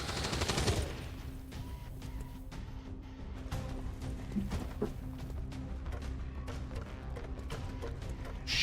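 Gunfire in a video game: steady, fairly quiet bursts of rapid shots and scattered single cracks running throughout, with a dense low rumble of battle underneath.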